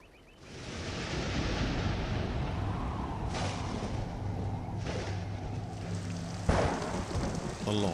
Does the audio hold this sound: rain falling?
yes